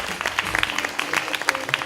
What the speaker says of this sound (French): Sous vos applaudissements, tout à fait.